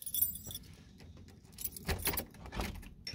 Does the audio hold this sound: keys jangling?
yes